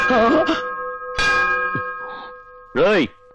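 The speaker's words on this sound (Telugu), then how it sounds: "ఎవరా అది కాలింగ్ బెల్ కొట్టింది?" A doorbell chimes at a house door, its sustained ringing tones lingering through the moment while short bursts of voices break in around it.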